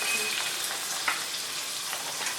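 Walnuts fry in a pan for a sweet walnut halwa, giving a steady, close sizzle with faint stirring scrapes and a brief clink, no talking.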